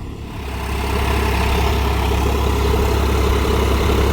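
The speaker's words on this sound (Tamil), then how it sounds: "லைட் வெயிட் ரோட்டரி பார்த்தீங்கன்னா போட்டு ஓட்டிகிட்டு இருக்கிறாங்க." A Solis 4415 4WD 45 HP tractor drives a Gomathi 42-blade single-speed gearbox rotary tiller while puddling a field, giving a steady, loud, low engine drone that holds throughout with no talk.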